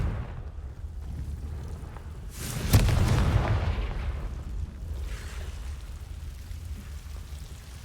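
A Confringo blasting spell explodes in Hogwarts Legacy with a sudden loud boom partway through, followed by a rumbling, hissing tail that fades slowly over background ambience.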